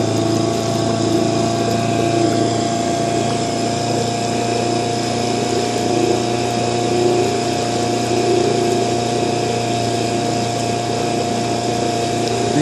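Boat engine at full throttle, burning some oil, a loud, steady mechanical drone with strong harmonic hum running without a break and no talk over it.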